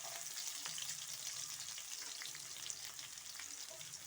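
Finely chopped onions frying in a pan give a steady, close hiss of crackling oil, with occasional soft stirring scrapes and no voices.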